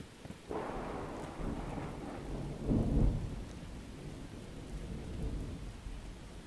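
Rain pours steadily in the Miscreated survival game on Orca Island, with a deep roll of thunder swelling in the middle, all heard without any talking.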